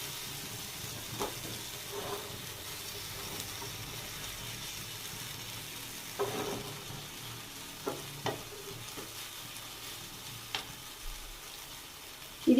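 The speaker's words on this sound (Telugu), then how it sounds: "ఇందాక వేసాను కదా పెనం మీద, ఇది కింద బాగా కాలాలి." Fish frying in a pan in an Andhra-style fish fry, a soft steady sizzle of oil with a few brief clinks and scrapes from turning the pieces, close by with no talk.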